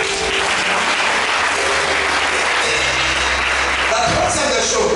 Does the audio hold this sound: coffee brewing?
no